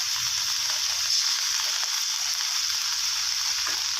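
Mixed vegetables stir-fried in a hot pan with oyster sauce, seasoning sauce and light soy sauce give off a steady, loud, hissing sizzle that stays constant throughout, close up and without speech.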